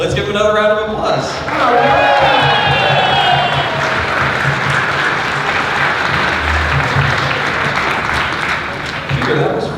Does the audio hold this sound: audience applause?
yes